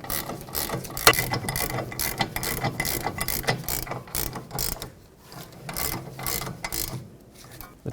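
Ratchet wrench tightening the two rear brake caliper bracket bolts on a 2005-2010 Pontiac G6, a dense run of rapid clicking bursts up close, pausing briefly midway and then resuming, with no talk.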